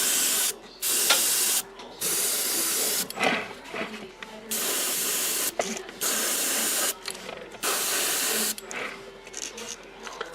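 Bursts of aerosol spray paint misting over miniatures in a series of hissing passes of roughly one to two seconds each, separated by short pauses, loud and close.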